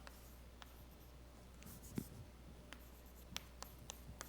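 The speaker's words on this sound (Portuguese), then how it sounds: "Eu vou escrever já" Chalk or marker writing on a board during a mathematics lecture on singularity theory, heard as scattered faint taps and strokes over a steady low room hum, with a slightly stronger knock near the middle.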